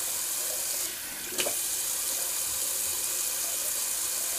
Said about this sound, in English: Just gonna throw some cold water.